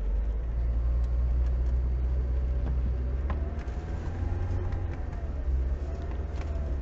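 A Lada Niva 4x4 on mud tyres with the centre differential locked, in first low gear in mud, makes a deep continuous engine rumble that swells slightly as throttle is added, with faint knocks and scrapes over it.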